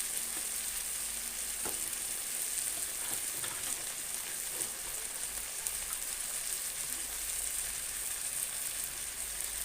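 Sausage sizzles steadily in a hot pan while being stirred, a dense continuous crackle with occasional scraping of the spoon and no talking.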